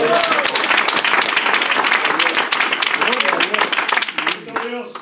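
A congregation at a Spanish-language church service claps loudly and steadily, with voices rising through the dense clapping and cheering up close.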